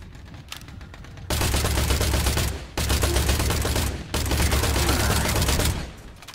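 Rapid automatic gunfire aimed at robots in the video game Industria, sustained bursts of loud close shots separated by brief pauses, with a soft voice now and then.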